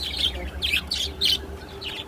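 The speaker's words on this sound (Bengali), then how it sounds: "এই যে পাখি, দেখো পাখিগুলোকে দেখাই তোমাকে" Birds chirp outdoors on a sunny morning beside a garden with a growing Malabar spinach plant: about four short, bright bursts of tweeting at a moderate distance over a steady low background hum, with no talking.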